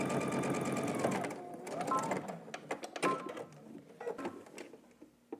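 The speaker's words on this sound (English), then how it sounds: "and you're gonna top stitch." Sewing machine top stitching a seam on a tank top, a run of rapid mechanical stitching that slows and stops, then starts again in short bursts.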